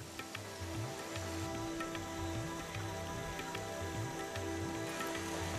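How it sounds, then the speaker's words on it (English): Steady rain patters softly and evenly on rice terraces in the Philippines, a constant wash of drops with a low hum running underneath. "It's been raining all night long"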